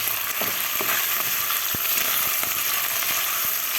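Meat sautés in a little oil in a pan with a constant loud sizzle, broken by scattered sharp ticks and pops from stirring, and no voices.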